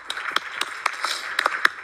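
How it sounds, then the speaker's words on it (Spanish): Audience at an education innovation conference starting to applaud, sparse, distinct claps from a small group, loosely spaced and building slightly over a couple of seconds. "Vamos a darte un aplauso primero,"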